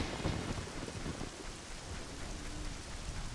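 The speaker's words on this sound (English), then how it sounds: "Make it rain." Rain summoned in the Zelda: Ocarina of Time video game falls as a steady dense hiss, with low rumbling thunder rolling beneath it throughout.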